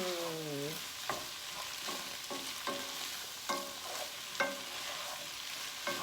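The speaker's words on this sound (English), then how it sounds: "And then I just added a little olive oil in to brown the turkey." Ground turkey browns in olive oil in a pan, a continuous soft sizzle broken by repeated scraping stirs of a spatula, close and moderate, with no talk.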